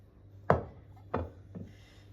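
A knife slices down through a soft zebra roulette cake three times, each cut a short, fairly close chop with a faint thud onto the board, the last one softer, over a low steady hum.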